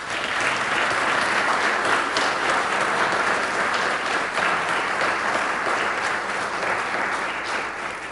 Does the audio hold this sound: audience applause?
yes